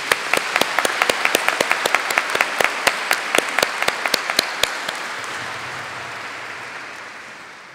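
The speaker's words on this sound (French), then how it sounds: "on l'applaudit, notre chère Maman Marie" A congregation at an Assumption feast Mass in Creole claps in a strong, steady rhythm for about five seconds, loud and close, then the sound dissolves into a lingering hall wash.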